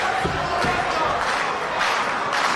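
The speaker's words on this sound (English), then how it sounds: "Listen to these fans, John." A sold-out wrestling crowd at a cage match roars and cheers steadily around the ring, a broad, loud wash of many voices with occasional sharp thuds and a commentator talking over it.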